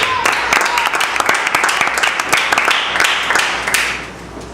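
A church youth service congregation claps in a dense, steady burst of applause, loud and close, fading slightly near the end.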